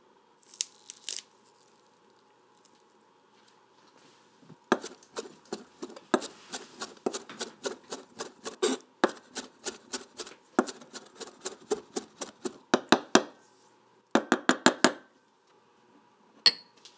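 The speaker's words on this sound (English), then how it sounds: "Place the capers onto the cutting board along with the fresh dill and chop them up together" Capers and fresh dill chopped together with a knife on a cutting board, a run of crisp, close knife strikes in irregular bursts of quick taps after an early pause, with a short final flurry near the end.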